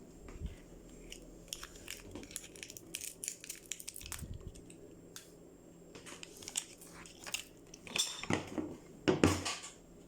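A spoon clinks and scrapes against a cup while stirring sugar into barley coffee, a run of close, irregular metallic taps and rattles that grows louder and busier toward the end.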